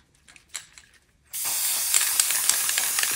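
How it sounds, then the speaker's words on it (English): Aerosol can sprays sealant onto a broken glass and resin Banksy-style artwork, a steady loud hiss starting abruptly after a second of quiet handling and continuing without a break. "Okay, so I'm going to spray this."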